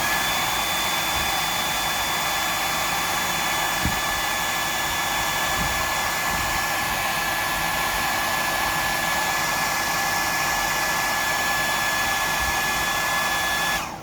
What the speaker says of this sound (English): just dry that off with the air